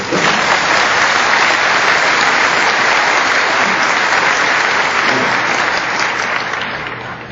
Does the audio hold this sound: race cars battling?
no